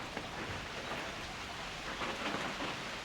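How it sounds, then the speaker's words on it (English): Steady rain pours down in a continuous broadband hiss, with faint low rumbles of distant thunder beneath it. "You can still hear a little thunder as it's passing on"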